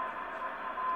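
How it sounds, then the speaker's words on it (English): A weak Morse code CW signal comes through a BiTx40 40-metre QRP transceiver with AGC off: a faint, thin tone barely rising above steady receiver hiss. "Here's a weak CW signal with the AGC off"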